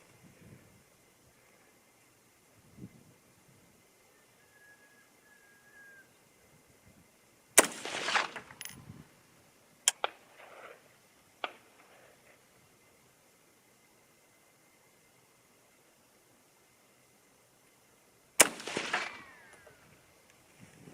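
Three loud rifle shots from a 6.8 SPC II cartridge firing 110-grain SST loads, sharp reports at about 7.6, 10 and 18.5 seconds with trailing echoes and smaller cracks, outdoors with light wind between.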